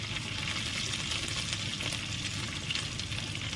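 Onions, green chili and mint frying in a pan, a steady close sizzle that holds evenly throughout without a break, no voices.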